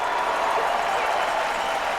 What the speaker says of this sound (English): Big cheer from the partisan crowd